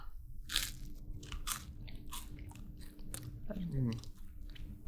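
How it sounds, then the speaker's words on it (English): Crunching bites and chewing of toast, close and fairly loud, with several sharp crisp crunches followed by softer chewing, over a steady low room hum. "I need something to eat. Toast, now."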